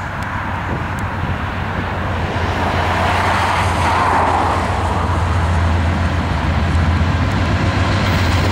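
Norfolk Southern autorack freight train NS28T, led by AC44C6M and ex-CSX leased Dash 8 locomotives, rolling past near milepost W80.5 east of Pacolet; a steady, loud rumble of wheels and cars with a low engine drone throughout, no voices.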